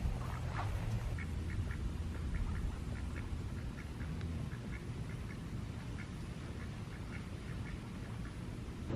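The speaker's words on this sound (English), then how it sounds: "Ducks are settling in for the night." Ducks quack in a steady stream of short, rhythmic calls, moderately near, against a constant low outdoor rumble at a backyard in Arizona as evening settles in.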